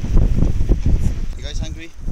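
Strong wind buffets the microphone at a hilltop viewpoint in Jerash, a steady low roar with gusty surges throughout, while people talk over it.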